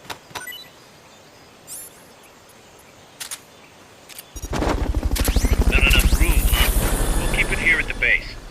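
A helicopter in Metal Gear Solid: Peace Walker arrives midway. Its loud, steady rotor chopping fills the second half after quiet ambience and a few faint clicks.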